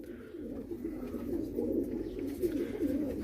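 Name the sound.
pigeons cooing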